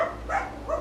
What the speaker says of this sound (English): my dogs decided to be a part of the show today